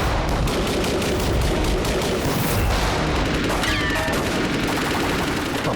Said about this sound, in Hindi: अगर किसी ने गोली चलाई